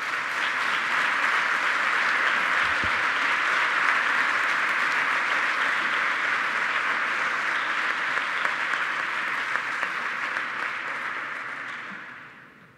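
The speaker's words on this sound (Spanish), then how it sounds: "Un fuerte aplauso para él, por favor" A large audience at a university commemorative ceremony applauds a former rector of the University of Granada, a steady, dense wash of clapping that holds for about twelve seconds before fading out at the end.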